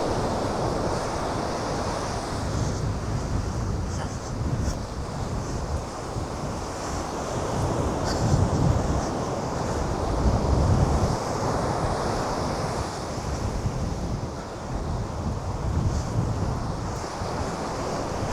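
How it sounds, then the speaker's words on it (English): Ocean waves roll and wash continuously in Hakodate Bay, a loud steady surf rising and falling in gentle swells, with heavy wind buffeting the microphone throughout. "Thinking about being swallowed by these waves is quite frightening."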